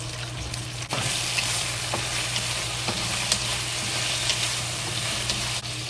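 Ginger and green onion fry with soy sauce in a pot, giving a steady, close, crackling sizzle with small pops and stirring clinks.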